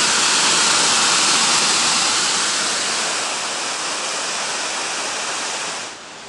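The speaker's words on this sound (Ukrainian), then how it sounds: "Олька, привіт тобі з-під водоспаду" Düden waterfall in Antalya, a loud continuous roar of rushing, crashing water heard up close, broad and hiss-like, easing slightly near the end.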